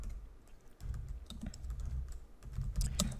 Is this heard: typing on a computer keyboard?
yes